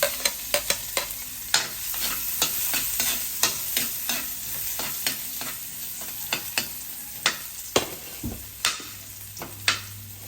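Garlic sautéing in a pan after cooked potatoes and carrots, for pork menudo: a steady close sizzle broken by frequent sharp scraping and stirring clicks of a utensil against the pan, with no voices.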